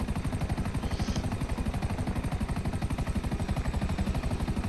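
A helicopter in Grand Theft Auto 5: the rotor thumps in a fast, steady rhythm under a constant engine whine, loud and close throughout.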